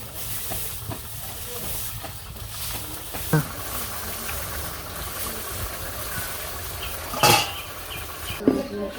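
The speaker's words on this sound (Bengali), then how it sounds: "নাড়াচাড়া দিয়ে নিই।" A pot of vegetable curry with fish sizzles and hisses on the stove while a utensil stirs it and clinks against the metal now and then. Background talk is faintly audible.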